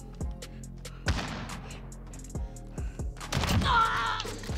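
Sharp bursts of gunfire crack out in a Modern Warfare 1v1 match, several close shots and rapid volleys spaced across a few seconds, louder toward the end.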